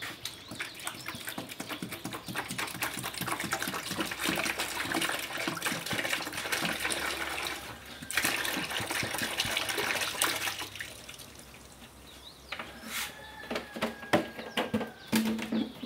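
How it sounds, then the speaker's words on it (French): Rice water being poured and stirred together with other liquids while preparing a microorganism culture for plants and animals: continuous splashing, trickling liquid noise that runs close and steady, easing off near the end, with no voices. "nous allons commencer par mélanger environ tous nos éléments liquides entre eux. Nous commençons ici par l'eau de riz."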